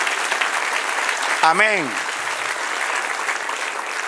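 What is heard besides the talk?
applause from church congregation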